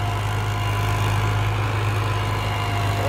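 A Balwan 400 tractor engine runs in a farm field with a constant, loud low rumble and steady drone that neither rises nor falls.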